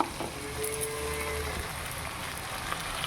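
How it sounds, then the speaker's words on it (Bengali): Moong dal and chana fry in hot oil with a continuous close sizzle and soft crackle, a steady hiss broken by faint bubbling pops. "ফ্রাই হইতেছে দেখুন।"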